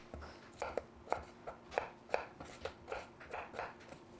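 A knife chops potatoes on a cutting board for home fries, a steady run of about a dozen close, crisp thunks at an even rhythm, with no talking.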